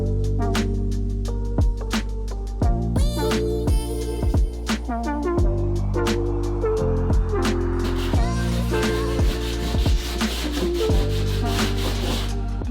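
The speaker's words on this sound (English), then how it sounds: "So I'm sanding all of the stairs by hand." Steady scratchy back-and-forth hand sanding of wooden stairs, continuous throughout, with music playing over it.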